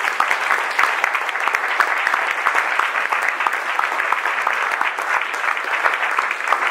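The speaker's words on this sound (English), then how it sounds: "What if we could give our guests a round of applause?" A symposium audience gives guests a round of applause: dense, steady clapping from a sizable crowd, even and sustained throughout, fairly loud with no talk over it.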